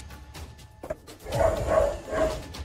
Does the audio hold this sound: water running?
no